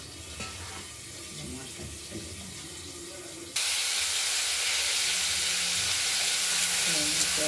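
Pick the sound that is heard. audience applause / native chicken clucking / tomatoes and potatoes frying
tomatoes and potatoes frying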